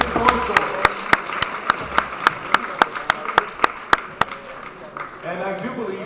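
Applause follows a women's longsword gold medal win at the Black Horns Cup 2025 finals, heard as sharp, evenly spaced claps from nearby that thin out toward the end.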